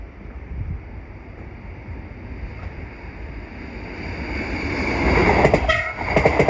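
A train passes through a station in Hauts-de-France without stopping, a rumbling roar that builds louder toward the end with clattering wheels and a brief horn-like tone, no talk.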